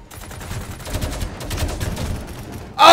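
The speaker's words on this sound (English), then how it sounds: "Taking heavy fire. Heavy fire." Heavy gunfire in the video game Angels Fall First, a dense continuous rattle of rapid shots ending in a sudden loud burst.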